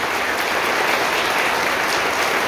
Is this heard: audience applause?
yes